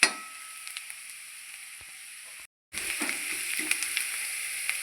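Onion and green chili frying in oil with Kashmiri chili powder, giving a steady, close sizzle throughout with a brief silent gap partway and faint stirring clicks afterward.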